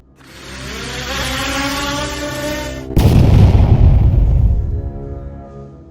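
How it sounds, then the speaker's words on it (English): Drone strikes on vehicles in the ruins of southern Pokrovsk: a rising roar builds, then a sudden heavy explosion bursts in, with a deep rumbling blast that rolls on and slowly fades away. "their explosions lighting up the ruins of southern Pokrovsk"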